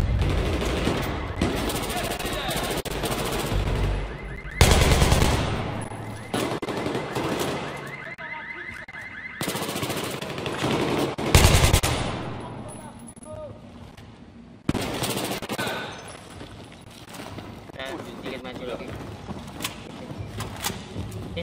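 AKS-74 rifle fire in the video game Battlefield 3, set in Paris, comes in repeated loud automatic bursts with heavier explosive booms over a busy battle background, and a voice talks underneath throughout.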